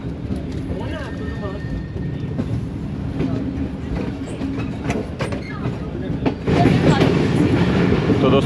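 A Subak Raftar railcar runs on rails between Gujrat and Rawalpindi, a steady loud rumble with rhythmic clicking of wheels over joints, swelling louder near the end, with people talking over it.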